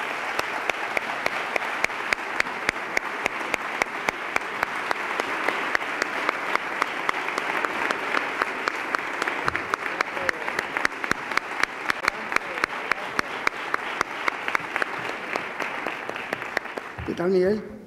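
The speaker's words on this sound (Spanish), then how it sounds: "Un aplauso para Miguel Caiceo." An audience at a Semana Santa gala in Seville applauds in a long, steady wash of clapping, with a few loud nearby claps standing out and a voice starting to speak just as it ends.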